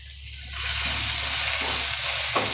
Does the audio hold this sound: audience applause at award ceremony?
no